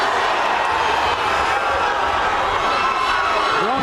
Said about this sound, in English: This crowd at its collective feet.